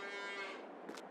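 A single drawn-out cow moo on a farm in Farming Simulator 22, clear and fairly close, fading at the end.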